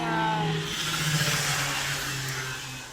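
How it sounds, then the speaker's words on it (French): Steady road traffic along a street in Genoa, Italy, with a continuous engine rumble and a passing vehicle's tonal drone fading, a busy urban wash throughout. "il y a de la circulation, c'est pas grave, on fera avec"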